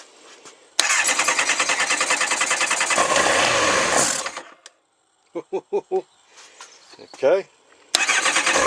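A Kawasaki ZX9R motorcycle with its airbox removed cranks over with a loud, fast starter whir, falls silent, then sputters briefly before cranking again, while someone speaks a single word.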